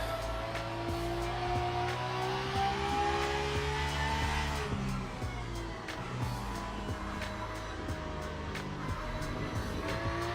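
Racing car engine in Le Mans Ultimate, with a steady loud drone of harmonics and gear shifts, plus tyres scrubbing and squealing through corners, continuous for the whole stretch.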